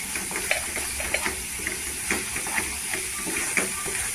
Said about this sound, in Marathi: इथे 2 मिनिटं तेलावर परतून घ्यायचे